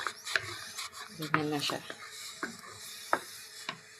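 Food being stirred in a pan while cooking a Kenyan dish: repeated scraping, rasping strokes of a utensil against the pan in an irregular rhythm, close by, with brief speech over it.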